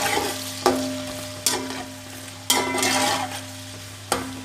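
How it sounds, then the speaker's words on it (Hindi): Sliced onions fry in hot ghee, a steady sizzle broken by four sharp clinks and scrapes of a spoon stirring against the pan, close up with no talking. "घी गर्म हो गया है, अब प्याज डाल देते हैं"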